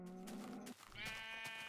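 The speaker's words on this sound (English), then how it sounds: "Alright, we have sheep." Sheep in the Minecraft video game bleat twice in quick succession, clear and close with nothing else around.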